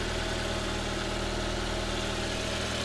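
A car engine idles steadily right after an oil, oil filter and radiator change, giving a constant low hum and vibration at close range with no voices.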